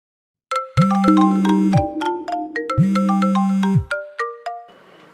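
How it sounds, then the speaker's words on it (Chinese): A melodic phone ringtone plays loudly in two repeated bursts of bright chiming tones over a low sustained hum, then fades into a few trailing notes. "我这就给陆总打电话"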